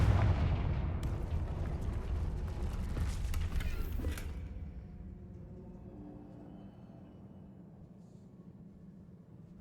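A Confringo fire-blast spell explodes in the Hogwarts Legacy video game: a loud, booming burst with a heavy rumble that swells over the first few seconds, then slowly fades to a low hum. No one speaks.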